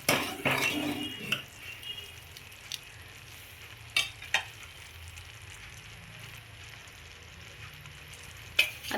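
A spoon stirs buttermilk kadhi thickened with besan in a pot, giving a soft, steady scraping and swishing at low volume, with a few sharper clinks of metal against the pot.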